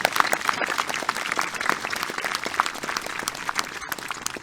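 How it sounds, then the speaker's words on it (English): Audience applause fills a high school commencement ceremony for graduates with highest distinction, a steady dense wash of many hands clapping at moderate level with no talk over it. "Let's give our graduates with highest distinction a round of applause."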